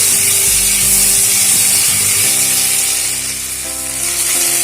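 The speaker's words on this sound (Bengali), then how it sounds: "এর মধ্যে দিয়ে দেবো পেস্ট করে রাখা জিরে ও আদা। মশলাটাকে একটু ভেজে নেব।" Cumin and ginger paste frying in a pan for a mixed vegetable dal, a loud continuous sizzle with faint clinking and humming underneath.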